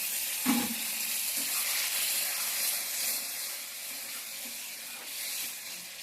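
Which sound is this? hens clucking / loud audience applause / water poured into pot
water poured into pot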